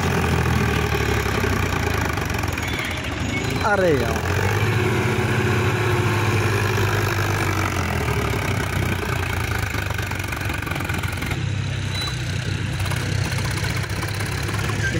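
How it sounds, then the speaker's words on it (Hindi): A Sonalika DI tractor engine labours uphill at full throttle, a loud, continuous diesel drone close by for the whole stretch, with a man's brief exclamation near the start. "अब की बार पूरी स्पीड के साथ में ऊपर चढ़ रहा है ट्रैक्टर।"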